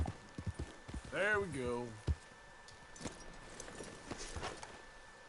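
Horse hooves clip-clop in Red Dead Redemption 2 as a rider urges the horse on, a short run of steady footfalls alongside a brief whinny-like call and a man's spoken words.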